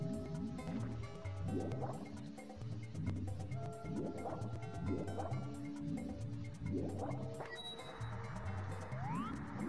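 Water draining away in the video game Super Mario 64, a repeating series of bubbly, gurgling pulses with rising watery tones, steady and moderately loud, ending in a brief high rising sweep.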